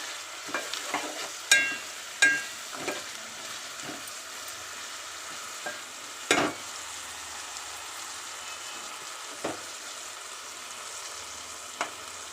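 Potato and eggplant curry is stirred in a pan, a soft low sizzle under irregular scrapes and knocks of the spoon, a few of them louder, with quiet stretches in between.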